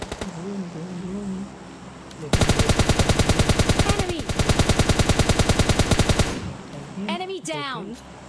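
Automatic gunfire in PUBG Mobile Lite: one long, loud, rapid burst of shots lasting about four seconds, with a voice heard before it and after it.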